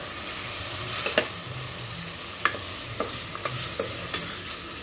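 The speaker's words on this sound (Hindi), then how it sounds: "मसाला भून गया, अब मैं इसमें डाल दूँ आलू।" Potatoes tossed into roasted masala in a home kitchen pan, giving a steady frying sizzle with a few sharp scraping stir strokes and light clinks, close and alone without talk.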